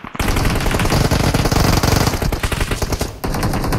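Rapid automatic machine gun fire from a PUBG Mobile match, loud and continuous bursts of closely spaced shots for several seconds with a brief gap near the end before firing resumes, no voices over it.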